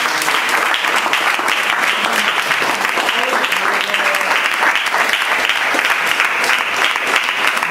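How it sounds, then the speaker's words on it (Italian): An audience at an Italian talk or presentation applauds steadily, a dense, even wash of clapping from many hands that holds at a constant level throughout. "Innanzitutto un applauso."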